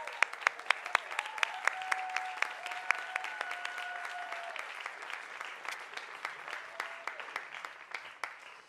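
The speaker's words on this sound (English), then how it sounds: "let them applaud" A seated audience claps steadily for an actress in attendance, with sharp individual claps rising above a dense, continuous round of applause lasting several seconds.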